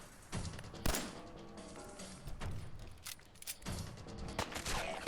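Scattered gunshots in Fallout 4 crack in uneven bursts of sharp reports with some louder blasts, over a busy game background.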